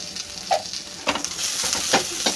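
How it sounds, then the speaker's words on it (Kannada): Onions fry with a pinch of salt in a pan, sizzling steadily while a spoon stirs and scrapes through them in several close, distinct strokes. "ಬೇಗ ಫ್ರೈ ಆಗಿ ಈಗ ಈ ಟೈಮಲ್ಲಿ ಫ್ರೈ ಆಗಿದೆ"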